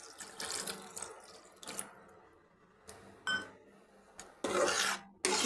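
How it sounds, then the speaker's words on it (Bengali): Water poured into a pan of spiced brinjal curry sweetened with jaggery, heard as bursts of splashing and rushing liquid separated by quieter gaps, with a louder, fuller pour near the end. "গুড়টা মিশিয়ে দিয়েছি এবার আমি জল দিয়ে দিচ্ছি"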